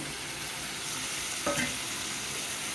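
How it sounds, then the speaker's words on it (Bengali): Fried eggs stirred into a cauliflower masala in a pan, with a steady close sizzle throughout and one brief scrape of the spoon midway. "এবারে আমি ডিমটাকে দিয়ে দেবো, ভেজে রাখা ডিমগুলো দিয়ে দেবো।"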